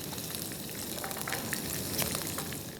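Red capsicum sizzling and frying in a pan for Schezwan fried rice, a dense close crackle with a few brief stirring scrapes, steady and alone without talk.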